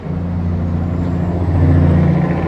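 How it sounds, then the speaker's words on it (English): Loud truck rumbling past at close range, a steady heavy engine drone that swells slightly as it goes by, with no talk over it. "Loud ass truck."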